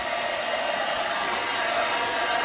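A hair dryer blows steadily and loudly, drying parts of a broken Dometic camper refrigerator during a repair, with a constant airy whoosh and no pauses.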